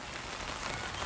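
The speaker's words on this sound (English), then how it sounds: "It is raining right now" Steady rain patters on a hard surface, a dense, continuous hiss of drops with no voices.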